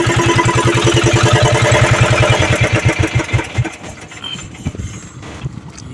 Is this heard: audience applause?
no